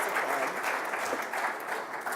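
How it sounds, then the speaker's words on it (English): An audience at an esports presentation claps steadily, a brief, even burst of applause heard at a moderate distance with no talking over it. "Terry Kraft, everybody applaud, please."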